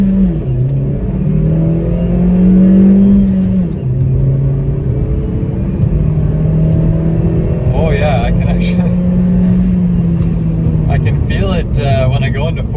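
A Chevy Sonic RS with a 1.4 turbo engine accelerates, its engine note climbing steadily through the gears and dipping at each shift, with a continuous hum and rumble throughout. A voice talks over it.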